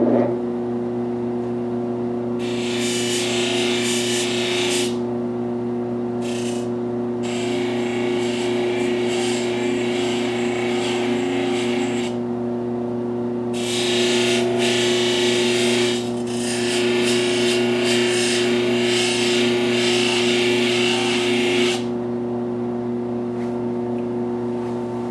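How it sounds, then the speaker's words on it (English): A fine Scotch-Brite wheel buffs and blends the contours of titanium knife handle slabs, giving steady bright abrasive hissing in long passes over a constant motor hum, pausing briefly between strokes. "let's see what this Scotchbrite does to blend these contours and see what kind of look we get on this with this wheel"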